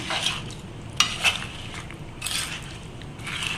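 A mango pickle mixture coated with mustard and fenugreek powder is stirred by hand in short scraping, rustling bursts, close and moderately quiet, with pauses between strokes.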